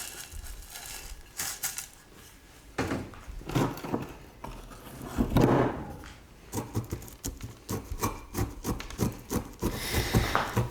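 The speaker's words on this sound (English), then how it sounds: "I'm using the wooden chopstick to push the substrate in all empty spaces between the roots." A wooden chopstick pushes gritty bonsai substrate between the roots of a tree in a pot, giving close, uneven scratchy rubbing and crunching with short bursts of rustling grains.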